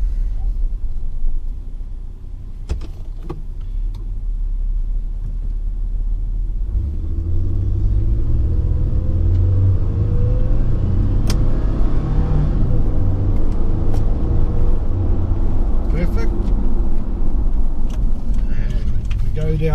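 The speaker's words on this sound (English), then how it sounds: "I'm just going to run it up the gears manually." A 1999 Toyota Hilux Surf 3.4L V6 four-wheel drive is driven up through the gears by manual selection. Its deep interior rumble swells as the engine tone climbs steadily, loud and continuous throughout.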